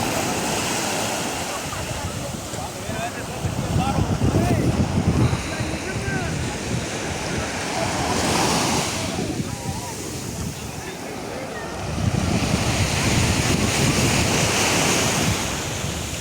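Sea waves at Santa Maria beach near Havana, Cuba, rolling surf washing in continuously with surges of louder breaking water and heavy wind buffeting the microphone.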